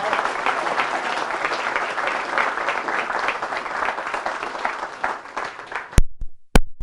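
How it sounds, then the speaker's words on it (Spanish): A church congregation at a retreat claps loudly and continuously in a dense, sustained burst of applause that cuts off abruptly, leaving a couple of sharp knocks in near silence. "Fuerte el aplauso a la palabra de Dios."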